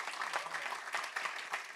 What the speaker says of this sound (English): Let's give a round of applause for all the donors that helped this fundraising.